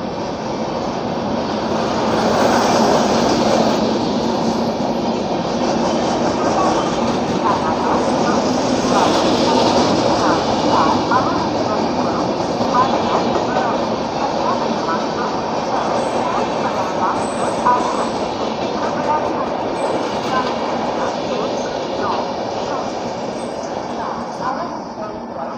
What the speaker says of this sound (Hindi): ये थी मुंबई सेंट्रल हिसार दुरंतो एक्सप्रेस।